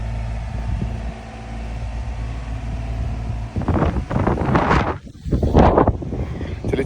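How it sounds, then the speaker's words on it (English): Steady low wind rumble buffets the microphone, followed by louder gusting bursts toward the end. "It's a little bit windy today"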